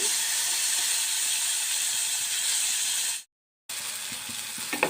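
Tomato pieces with turmeric fry in a pan with a close, steady bright sizzle that cuts out briefly, then resumes with a few clinks.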